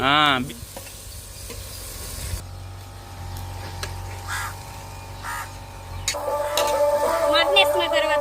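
Rock salt being stirred into mutton curry in a pan, soft scraping and a low sizzle with a few clinks, a voice speaking briefly near the end.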